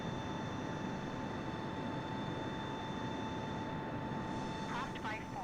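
A Boeing 747-8F freighter climbs after takeoff from Indianapolis, a constant broad engine roar with steady humming tones, heard continuously and fairly loud.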